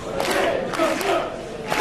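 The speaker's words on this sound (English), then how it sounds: "This crowd behind Ricky Starks as he and Sammy Guevara climb to their feet." A large wrestling crowd roars and cheers continuously during a Ricky Starks vs. Sammy Guevara match, loud and enthusiastic, filling the space with no break.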